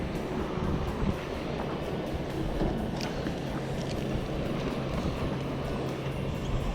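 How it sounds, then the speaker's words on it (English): Big waves rolling in against a dock on a lake, a steady wash of water and churning surf with faint wind, continuous and moderately close, no talking. "Got some big waves coming in right now."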